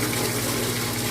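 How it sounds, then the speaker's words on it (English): Water pours steadily from the filter line of a Manitowoc ice machine into a bucket, making a continuous, even rush with no break. "see how much water comes out."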